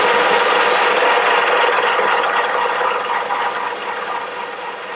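Metal lathe running in a home workshop, a steady broadband whirring and grinding with mechanical rattle, close and loud, easing slightly toward the end, no voices.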